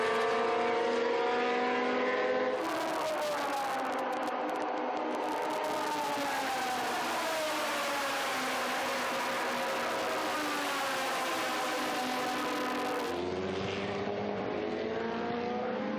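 Historic race cars, a Cheetah chased by a red 3-litre Lola and a white Lola, roar past on the Estoril circuit, loud engines rising and falling in pitch as they approach and pass close by, with no talking.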